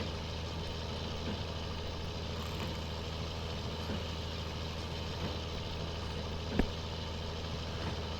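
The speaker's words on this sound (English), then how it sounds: "It is a pretty quick baler, this, covering some ground pretty quick." A tractor pulls a baler across a field in Farming Simulator 19, a steady low diesel rumble that runs evenly throughout with a faint clunk near the end.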